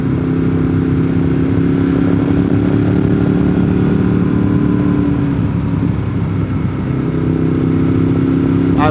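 Continuous motorcycle engine drone, loud and close, as Honda Grom motorcycles ride past in a steady stream with little change in pitch.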